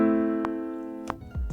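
A minor triad chord played on a software instrument in Logic Pro X, held as one sustained chord, then followed by a few brief clicks and soft thumps as it ends.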